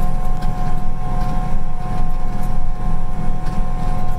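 A sprayer's loud engine drones steadily at full throttle, a constant rumbling roar with a faint tonal whine and no pauses, outdoors in wind.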